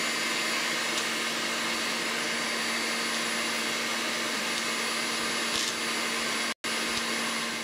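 An electric mixer whirs steadily as it whips egg whites for hazelnut macarons, a constant motor hum with a brief cut near the end.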